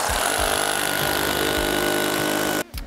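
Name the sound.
power drill drilling holes through milking parlour mats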